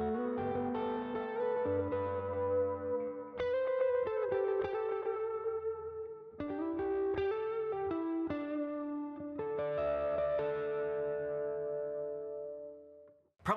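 An electric guitar runs through a reverb pedal, its clean chords and picked notes ringing out with long, washy reverb tails and echoes that sustain and fade between phrases, heard alone without talking.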